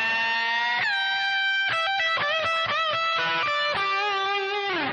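A distorted electric guitar plays a full metal lick, both halves joined, with fast runs of bright sustained notes and string bends, loud and steady throughout with no talking.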